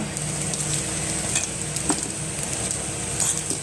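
Paneer fried rice is stirred in a sizzling pan, with a constant frying hiss close by and occasional clinks and scrapes of the spoon against the metal.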